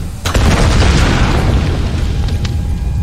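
A deep booming explosion in the Tomb Raider video game erupts with a sharp onset, then sustains a loud, rumbling roar with crackling debris that slowly tapers over a few seconds.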